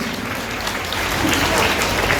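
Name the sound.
audience applause for the school principal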